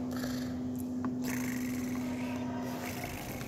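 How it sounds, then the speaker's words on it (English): A cat purrs steadily and close by, a continuous low rumble with no talking. "Do that purr again."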